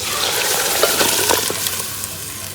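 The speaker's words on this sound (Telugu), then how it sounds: "కొంచెం వాటర్ కూడా యాడ్ చేసుకునేసాను" Steady splashing and pouring of water into a pot of goat leg curry, continuous and fairly loud throughout, with no voices.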